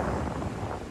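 Strong wind buffets the microphone at Lambog Beach, a dense, continuous roaring rush with no pauses.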